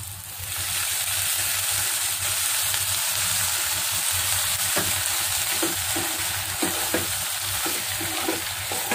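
Instant coconut milk in a hot pan sizzles loudly and continuously, a dense hiss close by with a few faint clicks from utensils toward the end.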